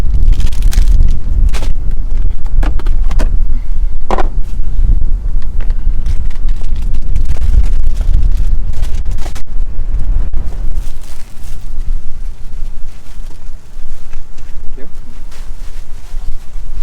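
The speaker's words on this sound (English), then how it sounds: "So cold. And windy." Strong winter wind in Texas buffets the microphone in a steady low roar, with gusty rumbling bursts throughout and people talking over it.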